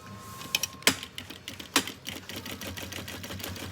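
A sewing machine stitching a seam on a backpack strap, with a few sharp clicks followed by a quick, faint, rhythmic needle patter running to the end.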